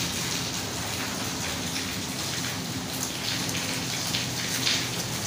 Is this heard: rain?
yes